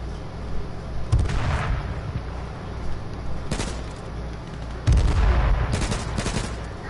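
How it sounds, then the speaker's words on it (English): Video game gunfire from the player's own weapon comes in loud, close bursts of rapid shots, with clusters near the start, middle and end over a steady background of game noise, and no talking. "That's me shooting."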